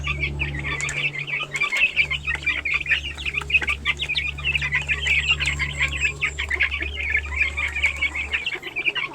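Young gamefowl chicks peep continuously in a close, busy chorus of high-pitched chirps, with no talk over them.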